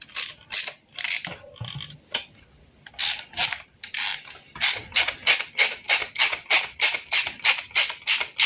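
A ratchet wrench clicks steadily while tightening the bolts on an intake manifold for a JTD Multijet engine, a fast, close, even run of sharp mechanical clicks with a brief pause partway through.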